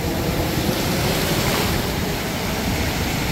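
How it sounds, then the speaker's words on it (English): Ocean surf washes continuously onto a beach, a dense, loud roar of breaking water mixed with wind buffeting the microphone, steady throughout with no voices. "Enjoy the sound of the ocean"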